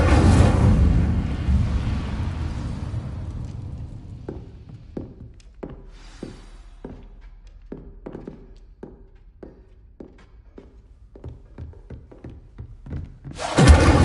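Incendio fire spell in a Hogwarts video game: a loud roaring whoosh of flame fading out, followed by a series of soft, evenly spaced thuds, then another sharp burst of fire at the end.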